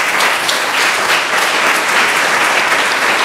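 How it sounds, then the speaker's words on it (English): Audience applause for a speaker at a panel event, loud and dense, steady many-handed clapping filling the whole moment without pause. "Please give him a round of applause."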